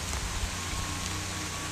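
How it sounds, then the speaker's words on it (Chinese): Heavy rain falls outdoors at a dug-out soil hole, a dense, steady hiss that holds at an even level throughout, with a low rumbling undertone and no voices. "现在下雨太大了。"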